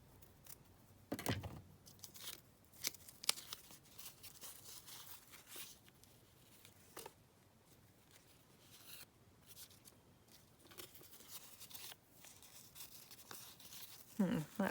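Scissors snip through pink lace at a craft table, making scattered, close, soft cuts and crinkly handling noises spread irregularly across the stretch, with no voice.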